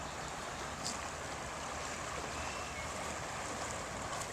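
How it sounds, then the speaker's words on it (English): Rapid water of the Boise River rushing along a nature trail in Boise, Idaho, a steady broad roar of flowing current heard up close and unbroken, with no voices. "Again, this is the Boise River."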